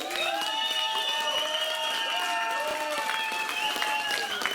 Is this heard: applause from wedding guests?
yes